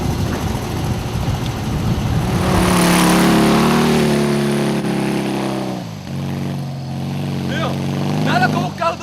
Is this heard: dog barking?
no